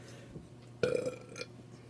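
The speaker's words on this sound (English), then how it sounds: "Little small burps." A short, fairly loud burp from someone eating chicken tacos with french fries, a single quick belch standing alone over quiet room noise.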